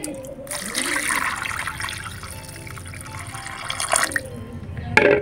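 Raw mutton with hair being picked off is rinsed in water, with running, splashing water throughout under occasional voices.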